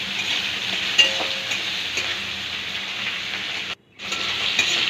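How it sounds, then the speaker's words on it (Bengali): Green peas with hing and tomato sizzle and crackle in a pan as they are stirred, a close, bright frying hiss with scraping strokes and one brief pause near the end. "ভালো করে নেড়ে নিয়ে টমেটোটা দিলাম"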